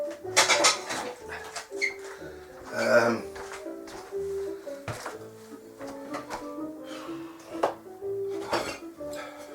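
Pots and pans washed up in a sink, with repeated clanks and clatters of metal cookware and cutlery knocking together, close and uneven, under someone talking.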